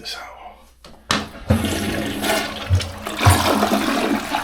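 Hotel bathroom toilet flushing nearby, a sudden rush of water that gurgles and swirls with a few heavy thumps, with some talk faintly in the background.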